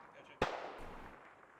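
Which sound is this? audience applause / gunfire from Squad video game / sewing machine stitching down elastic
gunfire from Squad video game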